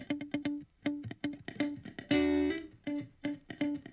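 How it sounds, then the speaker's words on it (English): A plucked, bouncy instrumental phrase plays with a short, tight Waves H-Reverb setting with 10 ms pre-delay, adding slight depth and space behind each note. "just a really short reverb, just to kind of give a little depth"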